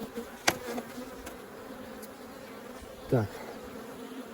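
Honey bees buzz around an open beehive while two colonies are being merged, a low steady hum under outdoor background noise, with one short spoken word and a brief chirp.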